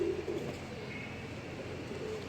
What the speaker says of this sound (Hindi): ये जा रहे हैं कबूतर